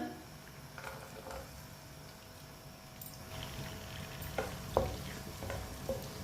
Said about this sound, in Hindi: लहसुन और टमाटर को 2 मिनट के लिए पका लेंगे।